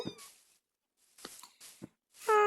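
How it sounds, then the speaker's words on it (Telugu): A cat meows in the Minecraft video game, a few short separate mews spaced by quiet gaps, close and clear. "పిల్లి"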